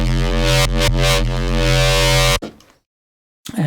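A buzzy, harmonically rich FM-synthesized boo sound holds steady for about two seconds with a couple of brief dips, then cuts off sharply into silence before a short blip.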